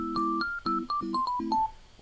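Vibraphone-style synth patch played from a MIDI clip in Ableton Live 11, a short run of struck, ringing chord tones with a sustained upper melody line, clean and close with no voices.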